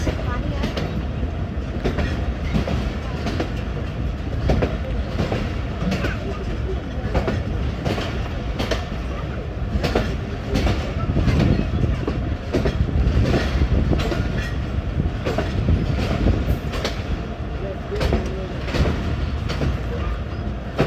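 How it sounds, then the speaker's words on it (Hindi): The 40 Down Jaffar Express pulls into Gujar Khan station in foggy winter weather, its wheels beating a steady, loud clickety-clack over the rails throughout, heard from on board with a faint murmur of voices in the mix. "गुजर खान पहुंच गई जी 40 डाउन जाफर एक्सप्रेस"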